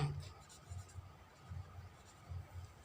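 Marker or chalk writing on a board during an accountancy lesson, with soft rhythmic strokes and taps repeating about every half second, faint and close, and no talking.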